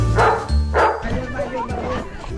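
Dog barking, with two loud bow-wow barks up close in the first second, followed by quieter murmuring voices and background babble.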